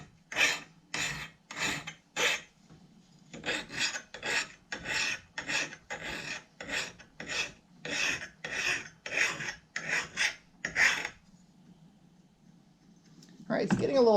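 A hand file rasps across an axe blade in about seventeen regular back-and-forth strokes, close and gritty. A short pause follows, then a harsher scrape at the end.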